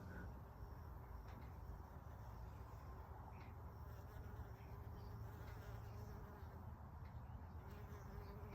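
Bees buzz softly and steadily while gathering nectar from tulsi flowers outdoors, a faint, continuous insect hum lasting throughout.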